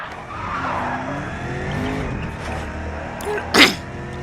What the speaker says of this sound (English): We oversteer again.